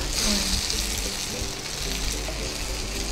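Vegetables for stuffed brinjal curry frying in a pan, a steady, fairly quiet sizzle with a faint bubbling, spattering texture and no voices.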